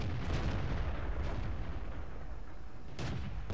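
SU-5 self-propelled artillery firing in World of Tanks: two muffled booming shots, one near the start and another near the end, over a constant loud engine rumble with no voices.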